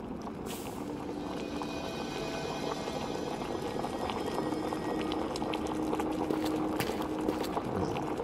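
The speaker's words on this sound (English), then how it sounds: "Let the air fill with the lovely fragrance of boiling sulfur." Sulfur boils steadily in Amnesia: Rebirth, a continuous bubbling, simmering churn at moderate level with scattered small pops, heard alone without talk.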